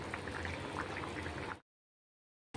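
Ridge gourd vegetable curry simmering under steam in a pan, with soft bubbling and gentle popping of liquid, faint and close, that cuts off abruptly into silence partway through.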